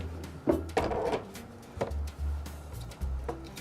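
A mahogany-fitted wooden drawer in a neoclassical antique piece is opened, giving several close wooden knocks and a short sliding rub, with soft low thuds between them in a quiet room.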